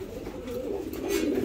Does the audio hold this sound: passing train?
no